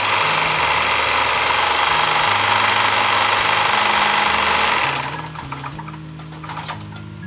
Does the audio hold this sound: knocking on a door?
no